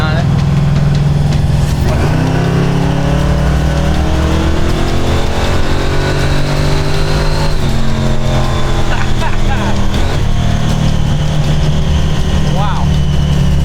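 A heavily boosted 1968 Dodge Charger pulls hard under acceleration, its engine note climbing in repeated rising sweeps as gears change, loud and close from inside the car, with people talking over it.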